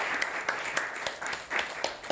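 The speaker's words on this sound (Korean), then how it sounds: "오늘 오신 여러분들과 또 하나님을 위해서 큰 박수 한번 함께 치겠습니다" A congregation at a Korean youth Sunday worship service applauds, the clapping faint and distant, heard as a thin spatter of individual claps.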